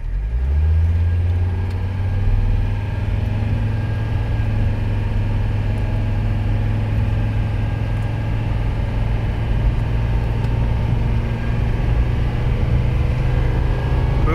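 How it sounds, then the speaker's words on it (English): A Mercedes 300CD diesel, an abandoned car being revived, pulls away from a standstill, its engine droning steadily and loudly with a deep, constant low rumble throughout and no talking. "Let's see what her 0 to 60 is."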